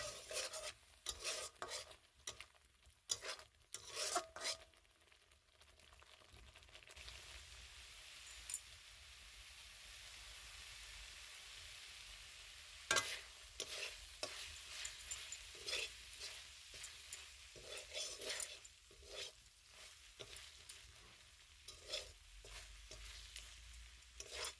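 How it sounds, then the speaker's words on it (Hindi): Masala with tomatoes frying in a pan while being stirred, a steady close sizzle broken by repeated scraping and clinking strokes of the spoon, no voices. "वर्तमान एबे मसला कषा चलछि।"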